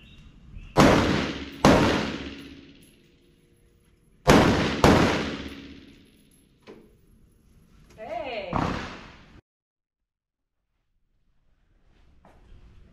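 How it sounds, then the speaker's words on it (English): Loud gunshots at a tactical shooting practice range, fired in close pairs and singles with sharp attacks and decaying reverberant tails, with brief voices between volleys. "We'll do 2 shots to the body standing, and then 1 to each pelvic kneeling."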